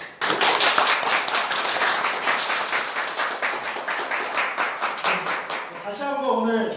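An audience at a lecture on labor and progressive politics bursts into sustained applause, dense clapping that continues for several seconds before thinning out as a voice begins speaking near the end.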